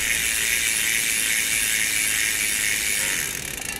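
A loud, fast buzzing freewheel ratchet from a spinning 50mm carbon bicycle wheel hub, steady and close, easing off slightly near the end.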